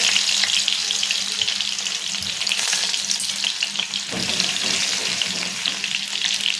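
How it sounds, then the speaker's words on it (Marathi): Crushed garlic hits hot oil and sizzles loudly and steadily up close, with a brief surge and some stirring partway through and a faint low hum underneath. "तेल चांगलं गरम झालेलं आहे। आता त्याच्यामध्ये लसूण टाकून घेऊया।"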